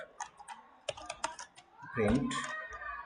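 Computer keyboard keys tapped while coding, a few scattered close clicks followed by a denser burst of typing, with a voice speaking partly over them.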